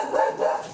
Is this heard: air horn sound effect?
no